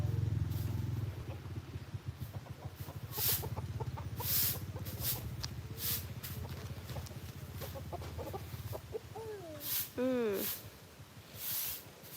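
Chickens on a farm cluck and squawk in short bursts throughout, close by, while people talk over them for much of the time.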